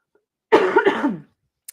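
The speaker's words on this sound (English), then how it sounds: "I always cough when things don't want me to say things" A single close, fairly loud human cough of about three quick bursts lasting under a second, then silence and a small click.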